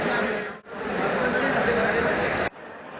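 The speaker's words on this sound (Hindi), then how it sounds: "बाहर देखिए बारिश कितनी ज़ोरदार है" Heavy, steady rain roars across the whole clip, a dense hiss that briefly dips twice and returns, with no clear speech over it.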